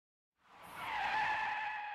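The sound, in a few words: car brakes screeching before a crash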